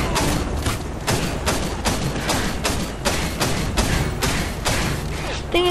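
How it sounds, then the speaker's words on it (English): A flashbang grenade goes off in Call of Duty: Modern Warfare amid a dense run of loud, repeated gunfire bursts and thuds, steady and close throughout. "Flashbang."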